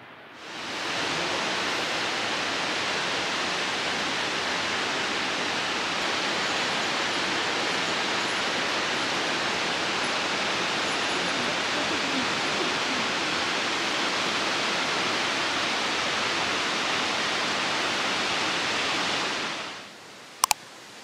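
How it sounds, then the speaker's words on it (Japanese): A waterfall formed by a river eroding the rock roars steadily as a dense, continuous rush of falling water, close and loud from start to finish with no voices. "川がさらに浸食して滝ができた。"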